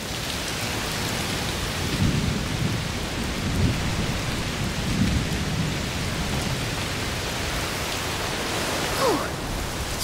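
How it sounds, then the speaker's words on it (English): Steady heavy rain hisses throughout a thunderstorm in the video game A Plague Tale Requiem, with low rumbles of thunder rolling in a few times beneath the downpour, and no voices. "Must be a heat storm."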